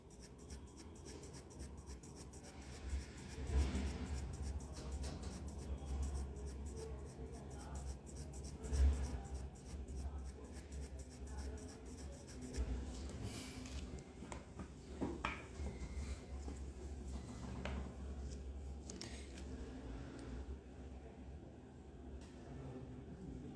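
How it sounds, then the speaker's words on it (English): A pencil shades on paper in fine strokes during a live drawing demo, making a continuous, close, scratchy rasping with a few louder strokes. "While doing the pencil shading, some patches can appear"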